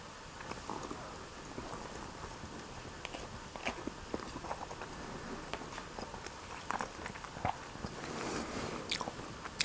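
Someone chews sticky plain white rice close to the mic, soft wet biting and mashing sounds repeating steadily throughout, with small crisp clicks over a faint background hiss.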